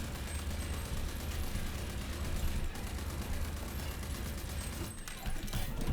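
Rapid gunfire and blasts in the video game RAGE 2, a continuous volley of shots with brief bursts and drops, moderately loud and without speech.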